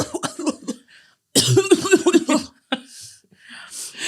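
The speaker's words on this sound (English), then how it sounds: "You just coughed into the mic and kept going." A person coughs and chokes close into a microphone, a sharp burst of harsh, rapid coughs in the middle, preceded by brief talk-like sounds and followed by faint breathy noises.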